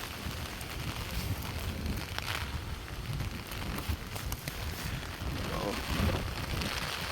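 Steady rain falls with wind during a storm, a continuous dense hiss and patter at moderate level with low rumbling gusts underneath, unbroken for the whole stretch.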